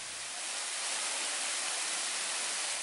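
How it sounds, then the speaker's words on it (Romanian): Bigar waterfall in the Anina Mountains pours as a steady, hissing rush of falling water that swells slightly at the start and then holds even and moderately loud, with no voices. "se poate admira cascada de sus, de pe un podeț de lemn"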